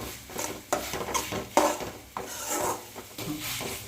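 Macaroni being stirred and fried in a pan, with repeated scraping and clinking of a spoon against the pan in an irregular rhythm, close and fairly loud, no talking.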